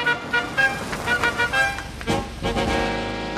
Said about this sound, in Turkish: Araba geldi.